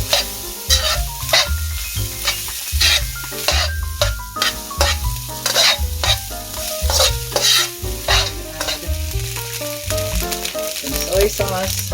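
Rice frying and being stirred in a hot pan, a steady loud sizzle broken by repeated scraping stirs throughout, with no talking.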